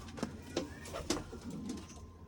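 Low, soft pigeon cooing repeats in a few throaty pulses, fairly close, over a faint background hum.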